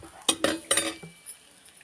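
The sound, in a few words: stirring vegetables in pot with spoon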